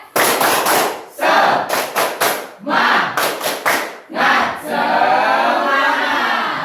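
A standing group at an icebreaker performs a rhythmic spirit clap chant: sharp bursts of loud, synchronized hand claps mixed with shouted syllables, grouped into quick patterns, ending in a sustained cheer from the crowd.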